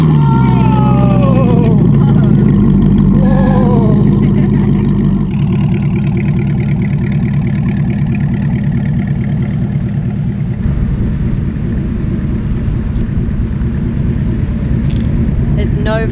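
A Devel Sixteen car engine idles with a steady, loud low rumble that holds throughout, with a person talking over it early on.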